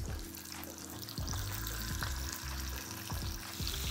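Salted chicken drumsticks sizzle in hot oil in a pan, with a steady frying hiss and intermittent pops and crackles, close and continuous.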